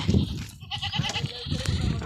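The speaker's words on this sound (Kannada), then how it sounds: "ಕುರಿ ನೀರು ಕುಡ್ಸೋಣ್ರಿ" A few sheep bleat nearby, their short cries overlapping with rustling movement of the flock.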